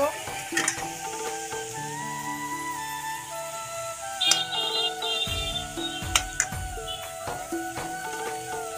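Spinach fries in a pan as a utensil stirs it, giving a low sizzle broken by scattered clicks and scrapes, all set under steady background music.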